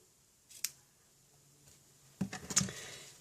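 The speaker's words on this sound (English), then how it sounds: "Get my ribbon cutting scissors. I like it cut at an angle" Ribbon-cutting scissors snip through strips of ribbon in a few crisp, quiet cuts, one sharp snip first and then a quick cluster of snips close by.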